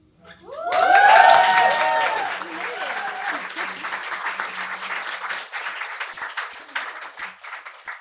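An audience bursts into applause at a live show, with loud clapping and cheering whoops swelling early, then settling into sustained clapping that tapers off gradually.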